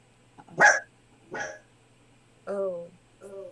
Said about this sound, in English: I could have sworn that dog just said work.